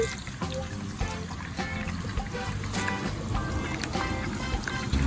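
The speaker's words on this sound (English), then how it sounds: "It's time to wash them. I'm washing them." Carrots being washed in water, with steady sloshing and trickling under a dense, continuous wash of sound throughout.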